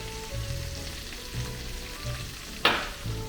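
Cabbage frying in a pan seasoned with garlic powder, salt and pepper, a steady sizzle broken by periodic low scraping stirs and a sharp clank of the utensil near the end; no voices.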